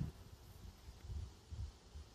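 A couple of honey bees buzz faintly inside an alcohol wash jar used for varroa mite testing, a soft low hum that swells and fades in uneven pulses.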